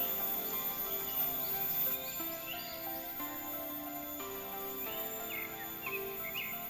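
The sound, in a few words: birds chirping in forest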